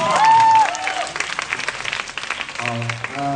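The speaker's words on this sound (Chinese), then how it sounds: "赞啊！ 掌声鼓励一下。" Audience applause at an Earth Day 2011 event, a brief burst of clapping and crowd noise mixed with cheering, under a sung or shouted tone at the start and voices toward the end.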